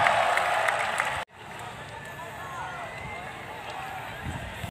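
Stadium crowd noise and applause at a ceremonial kick-off for a PSM Makassar friendly match at Stadion Kalegowa, a brief, broad roar that cuts off abruptly into quieter, distant ambience.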